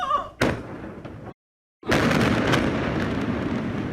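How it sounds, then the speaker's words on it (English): Footage of the massive 2015 explosion in Tianjin, China: loud booming blasts with a sharp onset near the start, a brief dropout, then a sustained broadband roar and rumble continuing to the end. "look at this explosion. I mean, this thing was massive."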